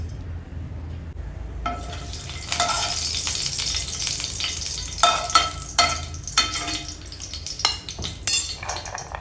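Mustard seeds fry in a mix of ghee and oil in a pan, giving a continuous sizzle punctuated by sharp pops and crackles, along with occasional utensil clinks.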